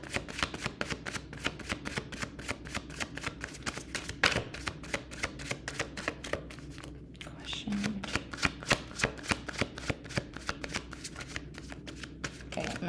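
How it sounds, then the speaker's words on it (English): Tarot cards shuffled in rapid, steady riffling bursts throughout, with brief pauses, close and fairly loud, during a live tarot reading. "I'm seeing positive cards in the shuffle, honey."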